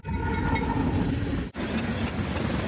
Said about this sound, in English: This is the train that runs all along the 99 corridor